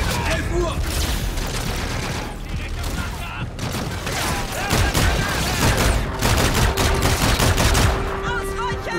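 Sustained gunshots in the video game Call of Duty: Infinite Warfare, with rapid automatic volleys and scattered single shots that are loud and close throughout, while game voices are heard underneath.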